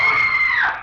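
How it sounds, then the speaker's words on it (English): A woman's scream used as a horror audio drama sound effect, one sustained high shriek held for under a second and fading slightly at the end, loud and close with no talk over it. "It was at that precise moment that I heard the scream."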